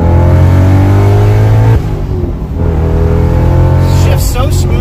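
Audi S4 engine pulling hard in second gear on an open road, a steady loud drone that drops briefly as a gear shift lands, then climbs again with the engine note rising.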